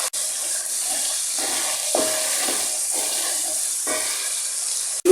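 Dried shrimp and palm sugar sizzle in a little hot oil in a pan, a steady close frying hiss with soft stirring scrapes and a brief clatter near the end.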